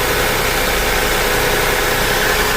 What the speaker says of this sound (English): I need to change the driving belt because driving belt making noise.